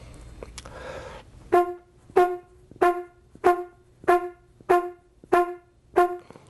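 Horn played with staccato tonguing: eight short, crisp, evenly spaced notes at a steady pulse, each clearly separated by silence, close and solo after a brief breath and rustle.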